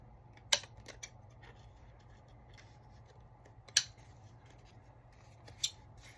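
Scissors trim the sides of a cardstock booklet: three sharp, close snips spaced a few seconds apart over a quiet background hum.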